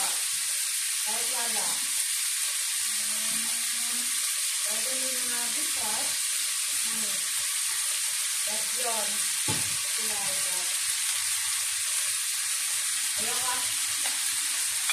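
Chayote sizzles in a hot pan as it is sautéed with oyster sauce, a steady frying hiss interrupted by the scrape and clatter of stirring, close and continuous throughout.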